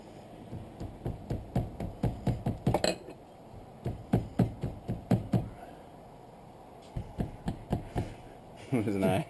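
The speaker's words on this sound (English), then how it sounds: "And you have to hammer those down, I guess." Repeated sharp hammer taps driving down the tabs of a CV boot clamp on a CV axle, coming in quick bursts of several knocks each, close and fairly loud, with short pauses between the groups.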